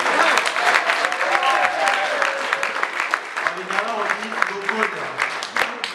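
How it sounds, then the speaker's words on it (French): Sustained applause from an audience at an international conference of Katumbi supporters and allies, honoring the mothers present, dense and steady throughout with cheering voices and chatter mixed in. "Est-ce qu'on peut applaudir pour les mamans d'abord?"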